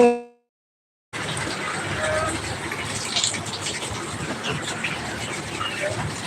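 After a short silence, a continuous broadband wash of rain and gusting wind in Gazipur sets in and holds steady, fairly close and moderately loud.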